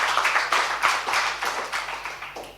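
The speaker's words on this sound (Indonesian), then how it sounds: "Yang siap menyambutnya tepuk tangan dulu bagi dia." A church congregation claps in a lively, fairly quick rhythm, individual hand claps distinct and moderately loud, alongside a faint low musical hum.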